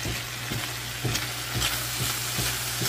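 Chopsticks stir bitter melon and tofu in a hot pan, tapping and scraping in a steady rhythm about twice a second over a constant close sizzle, with no voices.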